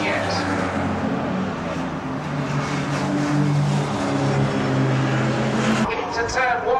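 Porsche racing cars at Rockingham during a BRSCC Porsche Championship race hold a steady, droning engine roar from trackside, with one car passing and the sound dropping away near the end while a commentator talks throughout.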